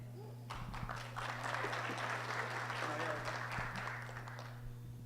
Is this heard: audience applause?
yes